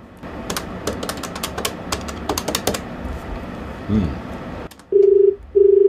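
Rapid clicking key presses, then a short beep and two long ringing tones of an outgoing call, loud and close.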